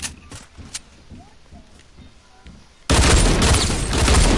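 Rapid dual-pistol gunfire in a shooter video game, a quieter scattered stretch of shots giving way to a sudden loud, dense burst of firing that fills the last seconds.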